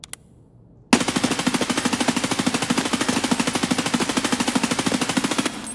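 A long, unbroken burst of automatic gunfire from a weapon in Escape From Tarkov, rapid even shots rattling loud and close for nearly five seconds before cutting off, with no talk.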